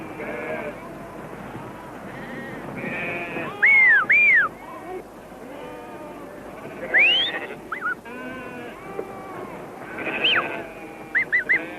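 Sheep bleat throughout, several overlapping wavering calls near and far, mixed with sharp rising whistles in between.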